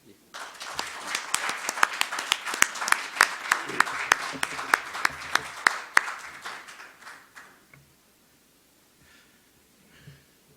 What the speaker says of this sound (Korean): 그러면 연사님을 박수로 모시겠습니다.